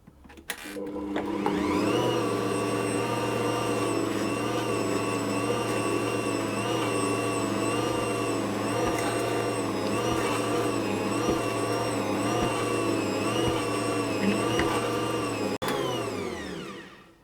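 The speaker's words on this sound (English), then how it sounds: "So I'm going to knead that until it comes together." An Ankarsrum stand mixer kneads panettone dough with a steady, loud motor drone and whirring harmonics that run unbroken for most of the time, then stop abruptly near the end.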